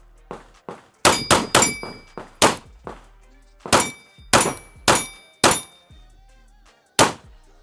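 Rounds from a PSA Dagger full-size pistol striking a steel target outdoors: about a dozen sharp impacts, some in quick pairs and bursts with pauses between, each with a bright metallic ring that trails off.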